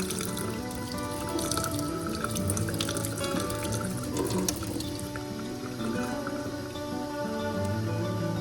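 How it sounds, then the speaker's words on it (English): A sink tap runs steadily with lukewarm water to fill a feeding tube extension, a close continuous splash and trickle with small drips, heard alone without speech. "grab my extension and fill it with lukewarm water underneath the sink"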